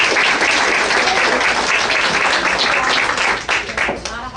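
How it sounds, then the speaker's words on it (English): Applause for a departing board member fills a public meeting room, a dense steady clapping from a crowd that thins out and fades near the end. "It should be applauded."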